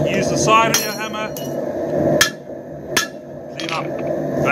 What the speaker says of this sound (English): Use the side of your hammer.